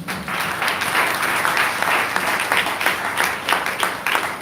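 Applause from an audience at a Lagos health information professionals' celebration, sustained and fairly loud clapping with a faint murmur of voices beneath.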